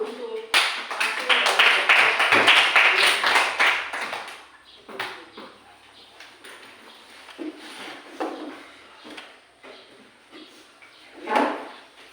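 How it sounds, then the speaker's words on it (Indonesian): A group of schoolchildren in a classroom claps for a group's presentation results, a burst of loud, dense clapping lasting a few seconds, followed by scattered taps and talk. "Kita tepuk tangan dulu untuk hasil."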